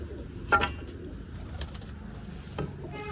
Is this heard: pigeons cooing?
yes